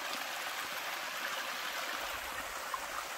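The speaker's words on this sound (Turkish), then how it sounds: "Bak buradan çok güzel suyumuz da geliyor." A natural stream outdoors flowing steadily, an even, continuous rush of water heard close and alone for the whole stretch.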